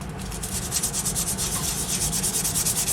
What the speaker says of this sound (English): the sanding blocks are nice and probably get less scratches in the middle